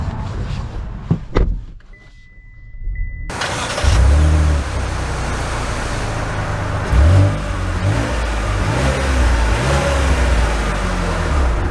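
A 2024 Cadillac XT5 Sport pulls away and accelerates, its engine note rising and falling in a steady, loud drone with surges as the car gains speed after a brief quiet start.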